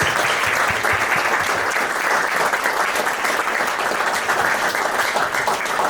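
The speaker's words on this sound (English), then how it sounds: "Give these foreign service officers a round of applause," A lecture audience at the annual Pearl Harbor Day event claps for foreign service officers, a loud, dense and unbroken wash of applause that holds at full strength throughout.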